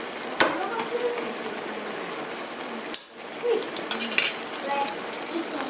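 Chopped tomatoes being stirred into a vegetable lasagne sauce in a pan, with wet scraping and a few sharp knocks of the spoon against the pan, steady and close.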